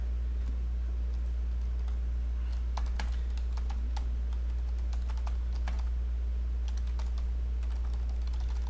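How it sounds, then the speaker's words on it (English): Computer keyboard typing while entering cards from 2019 Panini Victory Lane NASCAR racing boxes: a steady run of quick, close key clicks with irregular bursts over a constant low hum, no talking. "let's get everything typed in"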